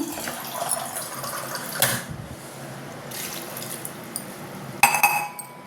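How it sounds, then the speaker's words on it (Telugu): Water from a glass pours briefly into a pressure cooker of broad beans with a splashing rush, then a clink of metal or glass and a second short burst of pouring near the end. "ఒక గ్లాస్ వాటర్ పోసి ఉడికించుకుందాము"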